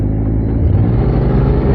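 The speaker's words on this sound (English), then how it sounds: "Bloody weekday traffic." Road traffic on a Peak District country road rolls past as a steady, loud low rumble of engines and tyres up close, with no break.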